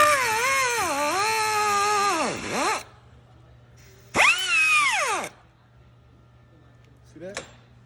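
A power tool cuts through a hard metal CV boot clamp on a car axle, with two loud whining bursts that rise and fall in pitch, separated by a pause and followed by a brief final whir.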